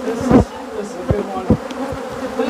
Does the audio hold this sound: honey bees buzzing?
yes